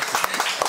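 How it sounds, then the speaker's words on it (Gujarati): Brief burst of hand clapping at a beauty parlour in Rajkot, a few sharp claps standing out over a steady wash of noise, fairly close and moderately loud. "વાહ, શું વાત છે, જોરદાર તાળી છે."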